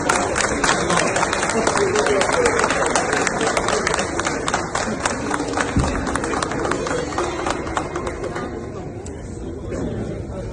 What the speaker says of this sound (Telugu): హాల్లోని దౌత్యవేత్తలు, అధికారులు అందరూ ఒక్కసారిగా చప్పట్లతో అభినందనలు కురిపించారు